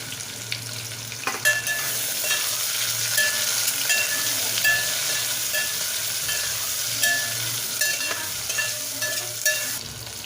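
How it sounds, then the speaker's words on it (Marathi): Tomato, green chillies and coarsely crushed garlic sauté in a pan over onion, a steady close sizzle broken by the scrape and clatter of stirring, with no talking. "टोमॅटो घालायचा मिरच्या आणि हा ओबडधोबड ठेचलेला लसूण हा परतून घ्यायचा एक दोन तीन मिनटं"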